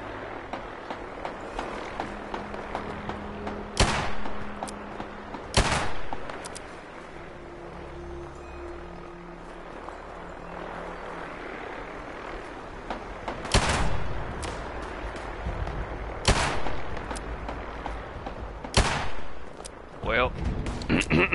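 Gunfire from a .44 revolver in the online video game Fallout 76, loud sharp shots spaced irregularly over a busy game soundscape with low rumbling ambience and occasional footsteps.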